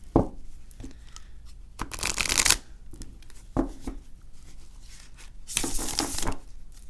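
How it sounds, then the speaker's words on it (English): An oracle-size tarot deck is shuffled up close in two short crisp riffles, with soft card taps and handling noises between them. "Okay, let's do a shuffle, and I'm just gonna pick one, and we'll see what the book says."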